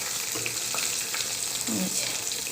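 Eggplant slices fry in hot oil in a pan, giving a steady, close sizzle and crackle throughout with faint stirring noises over it.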